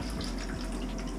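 Antifreeze trickles into a sink drain trap in a summer home being winterized, a brief close gurgling, dripping pour with a low watery rumble underneath.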